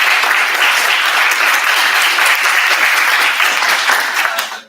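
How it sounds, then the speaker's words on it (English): An audience at a student cabinet debate claps loudly and continuously, a dense even roar of applause that fades out at the very end. "So one more round of applause for our candidates."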